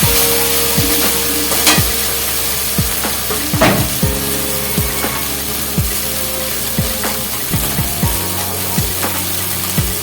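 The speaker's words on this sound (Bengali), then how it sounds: "এখানে মাটনের মশলাটা প্রায় আমার কষানো হয়ে যাচ্ছে।" Mutton korma masala stir-fried in a pan, with a steady sizzle under rhythmic scraping strokes of a spatula, repeating about every half second, close and fairly loud.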